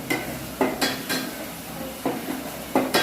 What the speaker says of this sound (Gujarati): હવે આપણે એમાં એડ કરી દઈશું ટામેટાની પ્યુરી. બરાબર હલાવી લઈશું